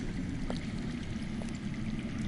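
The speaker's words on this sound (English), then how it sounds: "That's water. I hear water. From underground." Steady running water flowing underground in a Game of Thrones game, a continuous rushing stream with no break, moderately loud and alone.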